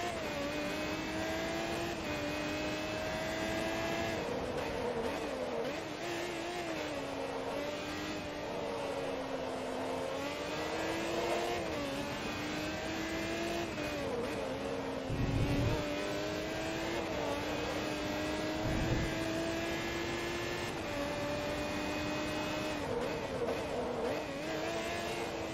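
A Pagani Zonda GR race car engine in Forza Motorsport 2 howls continuously, revving up and down through gear changes with steady high-pitched drone and a couple of brief low thumps, close and loud with no talk.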